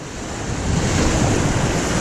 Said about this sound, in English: Some big waves here.